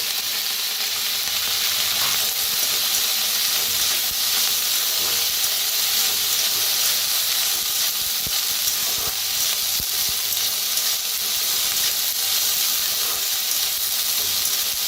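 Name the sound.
chickpeas roasting in oil in a pan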